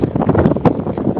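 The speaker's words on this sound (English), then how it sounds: "It's damn windy." Strong outdoor wind buffets the microphone on a walk up to a New Orleans hotel, a continuous loud low rumble with gusty surges and no voices over it.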